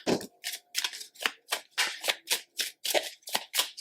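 A deck of tarot cards is shuffled by hand in a steady run of about a dozen crisp, riffling bursts, close and fairly quiet with no talking.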